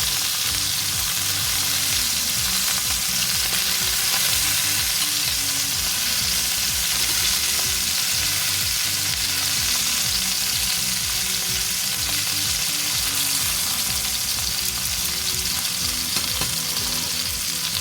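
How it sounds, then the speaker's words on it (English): Lamb meatballs fry in a pan with a loud, steady sizzle that stays constant and close throughout, with no voices over it. "Let the meatball cook on each side for about 3 minutes"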